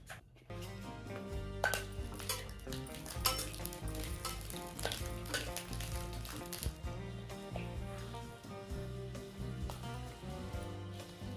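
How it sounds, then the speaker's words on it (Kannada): Green chillies with white sesame seeds fry in a hot pan, a steady loud sizzle and crackle with occasional stirring clatter, no voices. "ಹಿಂಗೆ ಮೆಣ್ಸಿಕಾಯಿ ರೀ ಚೆನ್ನಾಗಿ ಆ ಮೆಣಸಿಕಾಯಿ ಸ್ವಲ್ಪ ಹುರ್ಕೋತ ಅದ್ರ ಜೊತೆ ಈ ಬಿಳಿ ಎಳ್ಳು"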